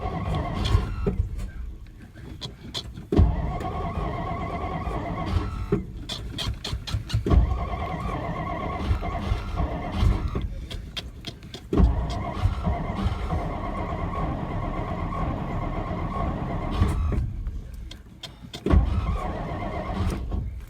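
A 1963 Studebaker Lark two-door engine is cranked repeatedly, with the starter churning in several long, rhythmic bursts broken by short pauses, loud and close, without catching.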